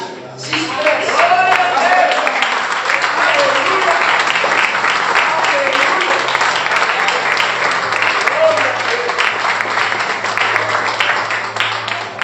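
A church congregation claps and cheers during worship, with sustained, dense applause and voices filling the room for the whole stretch.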